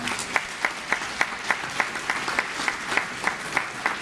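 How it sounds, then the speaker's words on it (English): A student audience at a health science presentation gives rhythmic applause, with evenly spaced sharp claps standing out over a softer wash of clapping, moderately loud throughout. "let's give another big round of applause for all three of our research groups"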